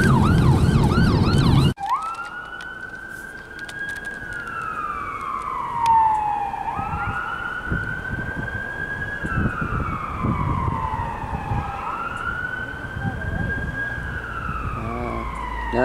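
An ambulance responding to a call in Halifax, its siren sweeping slowly up and down in long, loud wails that start abruptly after a burst of other siren tones, with traffic rumble underneath.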